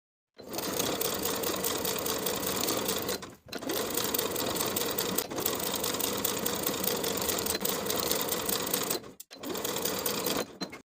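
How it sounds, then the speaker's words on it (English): A sewing machine runs steadily, stitching a waistband to a bodice with a half-inch seam, in three long continuous bursts separated by brief pauses, loud and close with no talk. "Then we'll sew to attach the waistband with a 1/2 inch seam allowance"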